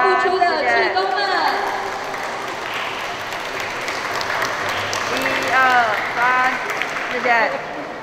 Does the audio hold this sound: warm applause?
yes